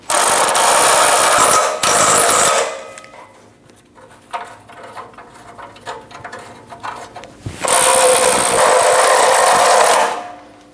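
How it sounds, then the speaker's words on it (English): Ratchet or socket work tightening a nut on the fuel tank sending unit of a 2011 Dodge Durango 5.7L V8, heard as two loud, dense bursts of rapid clicking and grinding separated by a quieter stretch of faint handling noise. "Get the nut started by hand and snug it down"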